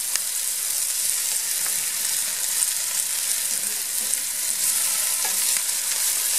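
Onions with tomatoes frying in a pan, a steady close crackling sizzle that runs unbroken, with a few faint stirring scrapes and no voices.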